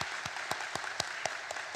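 Steady applause from a church congregation, with rhythmic, evenly spaced claps standing out about four times per second over a dense wash of hand clapping.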